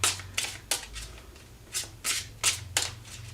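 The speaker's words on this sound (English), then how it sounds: "If I can shuffle without throwing them all over the place," Tarot cards shuffled by hand in a series of crisp riffling bursts, about eight quick rustling strokes at an uneven rhythm, close and fairly loud against a low steady hum, with no talking.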